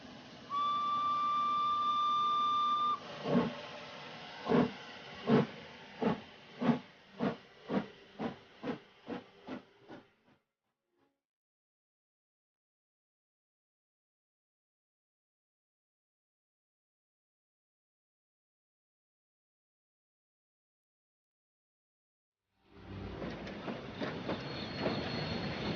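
A steam train pulls away: a long, loud whistle, then a hiss and a quickening run of chuffs and clattering wheel beats that cut off into silence before a rumble returns near the end.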